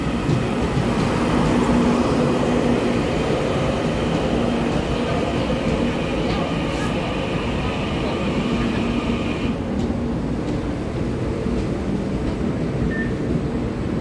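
Taiwan Railways EMU900 ten-car electric multiple unit commuter train running on the Western Line, a loud, steady rumble of rolling wheels and motor hum with faint rail clatter and a brief high squeal, sustained throughout.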